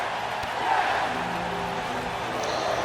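A wrestling crowd in Washington roars steadily in a large arena, with a broad wash of cheering and a sharp thud near the start, under a commentator's voice.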